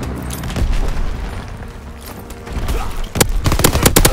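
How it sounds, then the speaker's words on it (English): Grenade explosion in Call of Duty WWII, a heavy booming blast followed by a burst of rapid gunfire cracks near the end, loud and close amid busy battlefield noise. "Ooh, I got that grenade kill."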